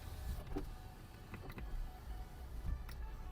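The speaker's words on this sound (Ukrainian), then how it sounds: "Склопідйомник працює, задній також працює." A Skoda Octavia A5 power window motor runs, a faint steady electric whine with a few soft clicks and thumps from the door, heard close inside the car with no speech.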